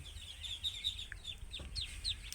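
Chinese duck ducklings, kept by a trader in Shyamnagar, Satkhira, peep faintly in rapid, repeated high chirps over a low background hum.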